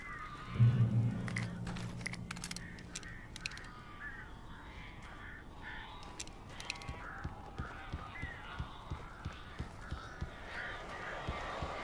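Crows caw in the Alan Wake video game, with a loud call near the start followed by scattered sharp clicks and rustling at a steady pace against a quiet ambient background.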